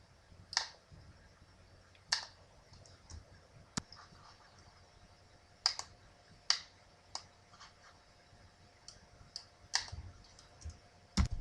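A computer mouse clicks a selection button in a spreadsheet filter, giving sharp, isolated clicks spaced irregularly over a quiet background, about a dozen in all.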